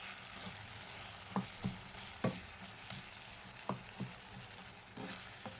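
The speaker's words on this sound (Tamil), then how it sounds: "இப்போ நல்லா தொக்கு பதத்துக்கு தக்காளி வதங்கிடுச்சு." Tomatoes sauté in a pan for chutney with a quiet, continuous sizzle, punctuated by several soft spoon taps and stirring knocks.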